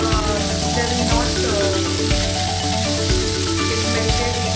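Homemade paneer pieces fry in a hot pan with a loud, steady sizzle and scattered crackling pops, close and continuous with no talk over it.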